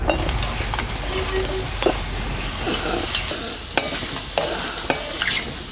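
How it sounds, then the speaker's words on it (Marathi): A soft, steady sizzle from ridge gourd pieces roasting on a hot griddle over a wood-fired stove, with a few light clinks and scrapes now and then. "तवा ठेवून घेते बघा चुलीवर"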